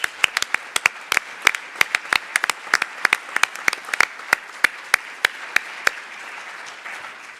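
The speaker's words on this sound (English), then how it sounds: "You have to give him a big applause" At a nuclear energy forum's main stage, a sparse audience claps in scattered, sharp individual claps over a soft crowd wash, tapering off near the end.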